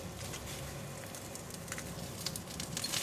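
Otak otak mackerel fish cakes wrapped in banana leaf sizzle steadily in a pan over low heat, a soft, continuous crackle with faint scattered pops, alone with no talk.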